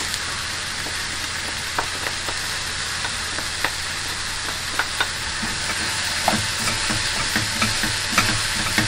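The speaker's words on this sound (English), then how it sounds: "I'm just going to allow that garlic now to fry off for a few seconds there" Garlic fries in a pan in a narrowboat kitchen, a loud continuous sizzling hiss with scattered small crackles and pops running through it.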